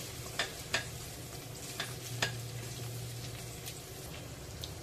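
Unboiled drumstick pods sauté with onions in a pan, giving a soft continuous sizzle broken by several sharp scraping clicks of a spatula spaced across the stretch, quiet and near, no talking.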